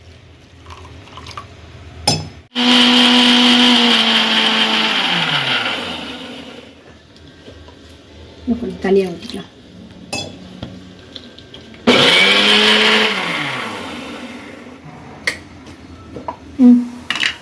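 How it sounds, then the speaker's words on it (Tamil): A mixer grinder whirs loudly in two long bursts grinding spices with water, its motor pitch dropping as each run winds down, with brief clinks and a short spoken remark between. "இப்போ தண்ணி ஊற்றி அரைச்சிக்குவோம்."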